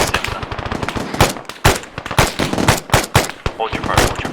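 Loud bursts of rapid automatic fire and single shots crack in close succession during an Arma 3 training exercise, with several sharp, dense volleys spread across the whole stretch.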